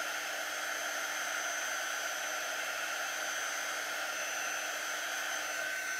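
Steady, continuous whoosh of a hair dryer blowing on chalk paste on a transfer, constant and fairly close with no break or talk.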